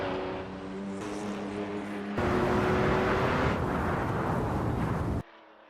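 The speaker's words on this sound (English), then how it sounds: "Accelerating fiercely out of Gambon, the Jaguar crosses the line." A Jaguar XJR9 race car accelerates hard out of a corner on a circuit, its engine a loud, sustained, rising roar that swells after a second or two, holds steady, then cuts off abruptly near the end.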